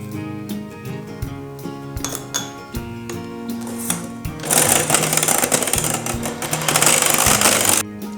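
Electric mixer beats egg whites for a plum cake, first clattering against the bowl in short taps, then rising into a loud, steady whirring buzz in the second half before stopping abruptly.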